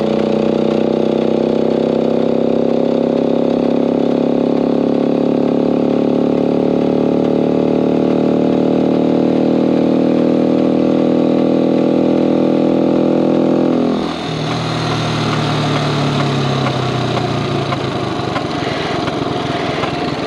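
A 50cc Honda Cub motorcycle engine revs loud and close, its pitch climbing steadily through a gear, then dropping sharply at a shift into a lower, rougher run.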